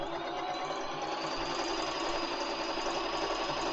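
A Bernette b33 domestic sewing machine runs steadily as it stitches, giving a fast, even mechanical whirr and rapid needle chatter that stays constant and close for a few seconds, with no voices.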